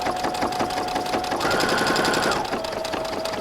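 A sewing machine runs steadily while stitching curved quilt piecing, its rapid even needle rhythm close and continuous, briefly speeding up and climbing in pitch partway through before settling back to a slower pace.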